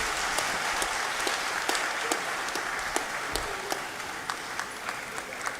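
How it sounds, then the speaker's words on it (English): Audience applause at the opening ceremony of an annual New Year school and conference, a steady wash of many hands clapping with a few sharper individual claps standing out, sustained evenly throughout with no talking. "give him another round of applause"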